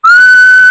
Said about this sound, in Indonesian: Kalau ada mau nggak siul 2 menit tanpa henti.